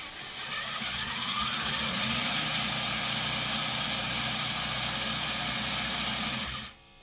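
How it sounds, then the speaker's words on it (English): A Killerbody RC car with a smoke exhaust system runs with a loud, steady electric whine and whirring hum that holds level for several seconds, then cuts off abruptly near the end. "You can hear it initializing there, and smoke starting to come out of the exhaust here."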